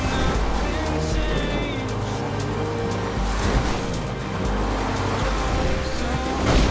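A steady engine drone with rumbling road noise from a video game car, the Toreador, loud and continuous throughout.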